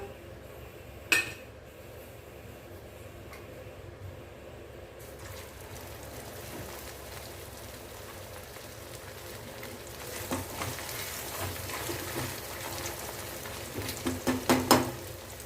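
Taro root slices fry in hot oil, a soft steady sizzle with occasional spoon stirs and clinks against the pan, a sharp clank near the start and a busier bubbling rush toward the end.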